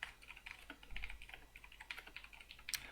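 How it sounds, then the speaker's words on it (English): Keys clatter on a computer keyboard in a quick, irregular run of light close taps, quiet and uninterrupted by talk. "I want to type in an actual number."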